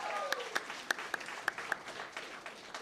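A small audience at the Mic Check Poetry Fest 2024 gives sparse applause, a handful of distinct sharp claps landing roughly every quarter second and thinning out as they fade.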